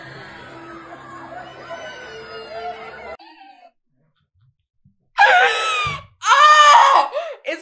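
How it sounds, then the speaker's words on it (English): Loud, shrill screaming from several voices bursts out after a stretch of background noise and a brief silence, coming in two intense waves. "It's the scream of terror from all the adults realizing like, oh no."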